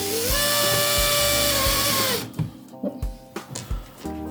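A power drill drives screws into scrap wood, a steady high motor whine for about two seconds, then several short bursts of drilling with brief pauses between them, close and fairly loud.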